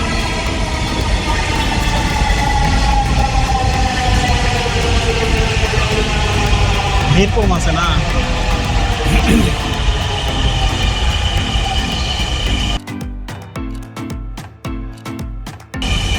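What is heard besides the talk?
Dhaka metro rail train arriving at the station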